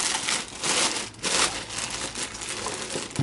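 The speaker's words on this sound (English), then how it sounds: "we'll just take the polystyrene packaging away, chuck it on the floor" Close, loud crinkling and squeaky rustling of stiff foam packaging being handled and pulled apart, in uneven bursts with no voices.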